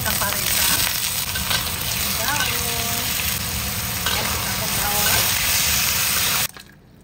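Stingray pieces sizzle and crackle loudly in hot oil in a frying pan, a dense steady fry running for several seconds before cutting off abruptly, with faint voices underneath.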